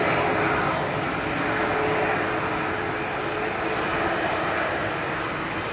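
An airliner takes off at London Heathrow, its engines a sustained broadband roar holding at moderate level throughout, with no voices over it.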